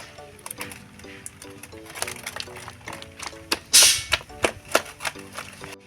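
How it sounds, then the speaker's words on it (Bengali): A utensil beats palm fritter batter made with water, salt and baking soda in a bowl, giving rapid close clacks and wet slaps in an uneven rhythm while a person talks. "এটাকে আবার ভালো করে ফেটে নেব।"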